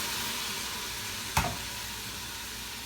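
Diced tomatoes sizzle steadily in a minestrone soup pot, a continuous close frying hiss with one brief clatter partway through, no voices.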